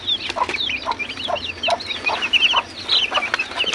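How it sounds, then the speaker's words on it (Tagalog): A flock of about forty broiler chickens in a small coop clucking and peeping continuously, close and fairly loud, with overlapping chirpy calls and no talking. "Broiler pala ito guys, broiler chicken."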